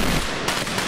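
Fireworks at the Las Fallas festival in Valencia, a crackling burst of rapid bangs with a couple of sharper reports, loud and close.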